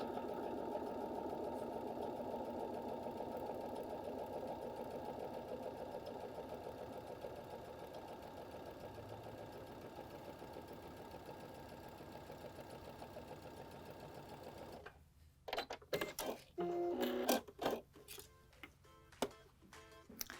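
A Baby Lock sewing machine stitches a line of top stitching with a Garment Maker presser foot, running as a steady close whir for about fifteen seconds before stopping. Scattered handling clicks and taps follow.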